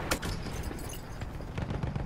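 Battlefield 1 combat on PS4: dense, continuous gunfire with rattling volleys and muffled booms of explosions filling the whole stretch, with nobody talking.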